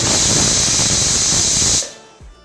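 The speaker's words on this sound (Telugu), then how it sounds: "ఒక టూ విజిల్స్ వచ్చేంత వరకు ఉడికించాలన్నమాట" A pressure cooker cooking broad beans lets out a loud, steady hissing whistle of steam that cuts off abruptly near the end, followed by a faint clink.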